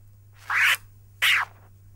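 Two short, bright scratches of a DJ record, each a quick forward push cut cleanly by the fader, separated by a pause, close and alone over a faint low hum.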